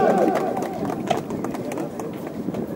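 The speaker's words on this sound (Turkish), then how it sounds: "Büyük alkışlar arkadaşlar." A large crowd at a workers' rally claps loudly and continuously, rhythmic applause mixed with shouting voices as a government minister arrives.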